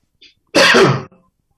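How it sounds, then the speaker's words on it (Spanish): A single harsh cough bursts out close by during an online committee meeting, preceded by a tiny sniff and followed by silence. "Está tosiendo mucho"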